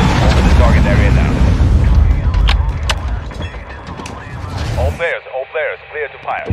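AC-130 gunship air support opening fire in Call of Duty Modern Warfare II, heavy booming cannon fire and mechanical rumble for several seconds, followed by a radio voice speaking over quieter background.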